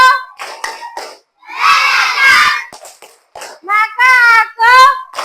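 Schoolchildren in a classroom shout a rhythmic clapping chant together, loud bursts of unison voices with claps, alternating with a teacher's spoken prompts.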